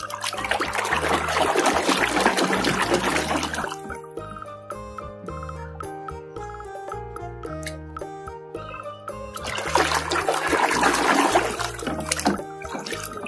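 Water running while a toy Ankylosaurus dinosaur is washed, with two loud stretches of splashing trickle at the start and near the end, separated by a quieter middle where cheerful music plays.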